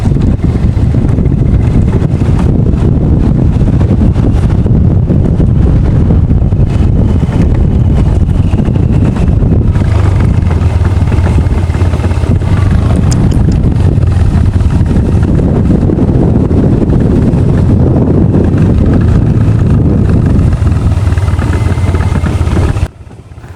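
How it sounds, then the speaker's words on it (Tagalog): A motorcycle engine braking downhill on a steep paved road drones steadily under heavy wind rush on the microphone, a loud continuous low rumble that cuts off abruptly at the end. "iyan yung tunog ng engine braking kasi pababa tayo para hindi tayo mabulusok"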